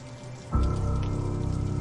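Heavy rain begins abruptly and then pours steadily as a dense, loud hiss on surfaces, with no voices.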